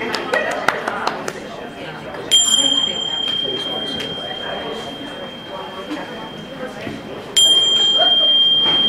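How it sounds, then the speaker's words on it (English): A meditation bell rings out twice to open a session, each strike leaving a long bright sustained tone that hangs over a murmuring room of people chatting. "We'll start with the bell"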